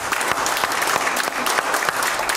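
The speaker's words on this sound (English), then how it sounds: "Let's give the Lord a big hand clap." A church congregation claps hands steadily through a Sunday service, a dense, continuous patter of many palms close and loud, with no voices over it.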